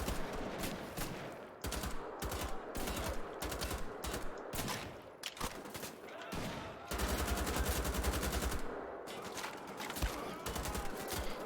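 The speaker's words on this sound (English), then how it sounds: "So yeah, we're just gonna shoot these guys up, really." Rapid bursts of gunfire from Wolfenstein: The Old Blood come in repeated loud volleys with brief gaps between them as enemies are shot.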